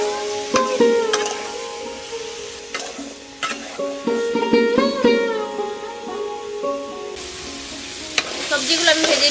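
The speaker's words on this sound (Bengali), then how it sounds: "সবজিগুলো আমি ভেজে নিয়েছি" Mixed vegetables with carrot, salt and turmeric fry and get stirred in a pan, loud close sizzling with repeated spatula clatter and scraping.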